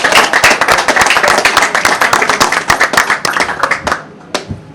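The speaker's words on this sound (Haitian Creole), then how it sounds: "Un applaudissement spécial pour camarade" An audience at an opposition political rally in Port-au-Prince claps loudly for a comrade, with dense, steady applause that thins into a few last scattered claps before fading out.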